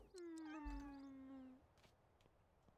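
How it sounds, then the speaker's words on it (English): A pet cat in The Sims gives one long, drawn-out meow close up, followed by quieter background sounds. "This is Buck's little cat."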